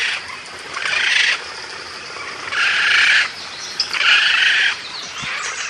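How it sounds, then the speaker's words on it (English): A magnificent frigatebird calls in Ecuador, giving three loud, buzzy, rattling bursts separated by short pauses, with no voices present. "So here's the call of a magnificent frigatebird in Ecuador."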